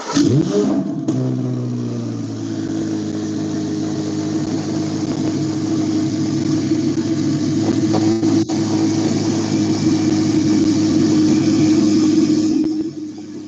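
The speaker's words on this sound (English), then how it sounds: "I can hear those turbos." A twin-turbo C8 Corvette Z06 engine holds a steady, loud rev close by for several seconds, droning evenly before easing off at the end, with no voices.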